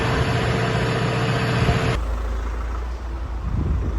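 A tractor engine idles with a steady low rumble, loud and close, its tone shifting abruptly partway through.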